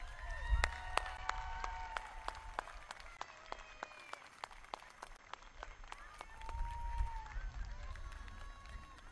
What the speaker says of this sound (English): give your families a round of applause